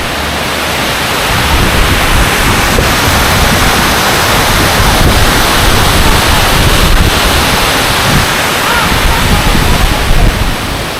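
Powerful rushing water roars steadily and loudly, a dense, unbroken torrent pouring through the opened gates of Kuppanatham Dam in Tiruvannamalai.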